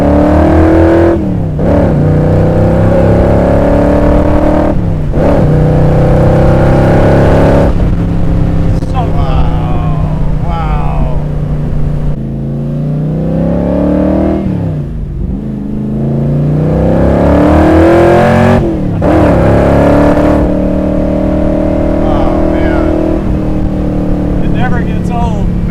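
Superformance Shelby Cobra with a Roush 427 engine making over 500 hp and manual steering, a loud, deep engine drone rising and falling through repeated revs and gear changes, close and continuous, with people talking over it.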